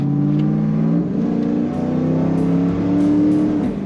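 A 2002 Chevrolet Camaro Z28 T-Top accelerating, its engine note loud and close, holding a steady droning pitch that climbs slightly as it pulls, with no talking.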